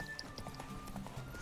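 Steady clip-clop of horse hooves at a trotting rhythm in The Witcher 3: Wild Hunt, fairly quiet beneath a constant background hum and faint tones.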